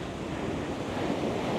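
Large ocean waves surging at a Florida beach, a loud, steady wash of surf with wind buffeting the microphone throughout and no voices.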